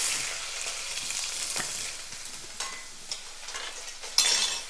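A handful of shallots fry with cumin seeds in a hot pan, hissing loudly and steadily, with a few sharp spatula clinks and one louder scrape near the end.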